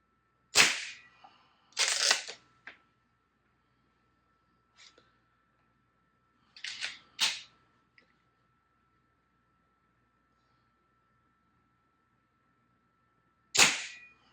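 Gunshots from a Baikal shotgun at target shooting, a handful of sharp, loud cracks spaced several seconds apart with quiet gaps between, one or two fainter pops mixed in.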